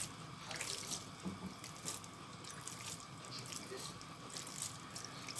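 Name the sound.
water sprinkled over couscous grains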